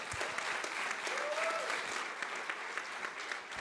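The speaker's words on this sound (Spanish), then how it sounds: "Lo recibimos con un fuerte aplauso." An audience at a university's 21st anniversary forum gives a speaker a warm welcome with dense, continuous applause filling the hall, steady and fairly loud throughout.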